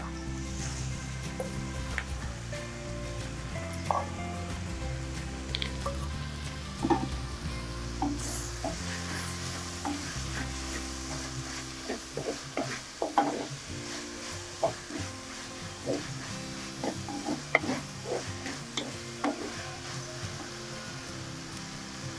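Fresh fenugreek leaves are stirred in a clay pot, a soft scraping and shuffling under a low steady simmer, with intermittent knocks and clatters of the spoon against the pot, close by.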